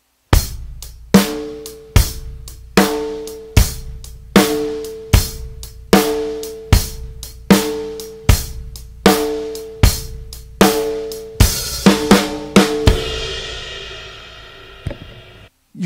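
A basic country swing drum groove on kick and snare repeats in a steady, even pulse of sharp, ringing hits, loud and close, ending with a crash that decays into silence.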